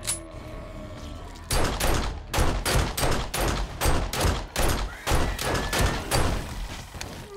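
Gunfire in the zombie survival game 7 Days to Die, a rapid series of a dozen or so loud shots in uneven bursts after a quieter opening, close and punchy.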